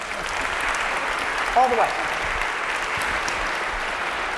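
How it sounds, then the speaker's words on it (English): Audience applause during an interview with a senator, a steady dense wash of clapping across the whole stretch with a voice speaking briefly over it partway through. "I was just applauding Glass-Steagall"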